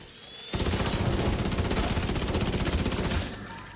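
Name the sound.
minigun firing in the video game Exoprimal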